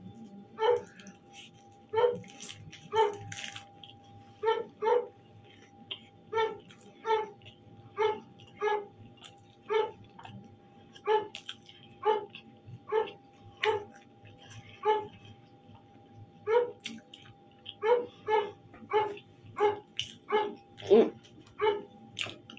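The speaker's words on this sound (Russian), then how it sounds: "Вот он и лает на нее." A dog barks at a cat sitting on a windowsill, a steady rhythm of short sharp barks, fairly close, with faint background noise between them.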